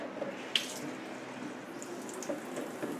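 Distilled or filtered water is poured into apple pie ingredients in a kitchen: a faint, steady splashing trickle with a small clink near the start.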